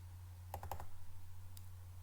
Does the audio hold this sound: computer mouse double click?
yes